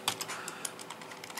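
Soft, fairly quiet keystrokes on a computer keyboard while a date is entered, a quick irregular run of light clicks with no talking.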